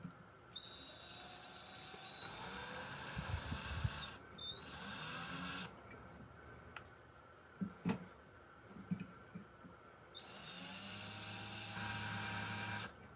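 Power drill boring through a Starbucks tumbler under light pressure, whining in bursts with pauses and a few sharp clicks between runs, close and fairly loud.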